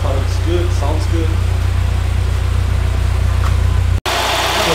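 A convertible car's engine idles steadily up close, a constant low rumble with a faint vibration, and a brief dropout near the end.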